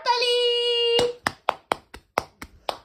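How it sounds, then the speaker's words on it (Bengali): A sustained, wavering vocal tone is followed by about eight sharp hand claps in an uneven rhythm, close and clear, with quiet gaps between them. "হাততালি!"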